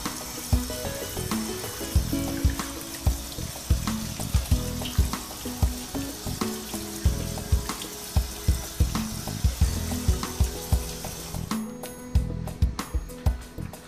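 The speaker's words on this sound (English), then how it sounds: "let's start by washing our chicken well" Raw chicken drumsticks rinsed under a running kitchen tap, with steady splashing water broken by a regular series of soft thumps and knocks as the pieces are handled. No one speaks.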